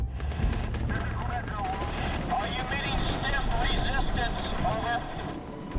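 Ground fire aimed at Black Hawk helicopters during a landfall flight, a dense clatter of gunfire under steady rotor and engine roar, with a voice talking over it throughout.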